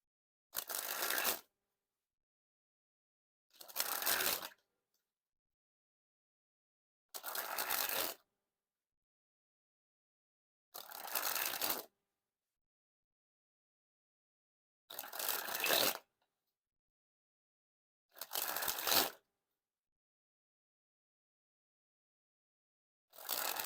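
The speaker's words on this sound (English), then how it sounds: "So first we'll spring the cards." Theory11 Copper Rarebit playing cards sprung from hand to hand, seven short riffling bursts evenly spaced about three seconds apart, crisp and close with silence between.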